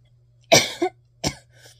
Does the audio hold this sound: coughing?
yes